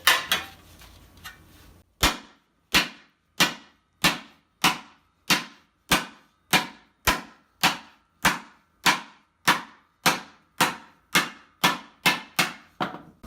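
Three-pound hammer beating an armor helmet, striking about seventeen sharp, evenly spaced metallic blows in a steady rhythm after a short quieter stretch, close and loud with no voices.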